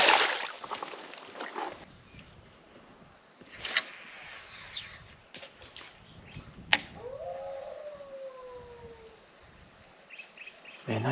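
A dingo howls in the open bush of Shoalwater Bay in Queensland. A long falling wail stands out against a steady insect chorus and scattered outdoor noise. The howl is moderately distant, and no one speaks over it.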